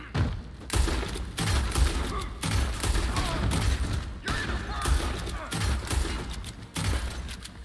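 Rapid gunfire in the video game Red Dead Redemption 2, loud and close, with repeated bursts of shots and booming thuds across the whole stretch and a brief pause near the end.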